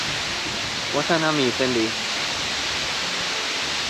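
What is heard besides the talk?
Maracas Falls waterfall mist in Trinidad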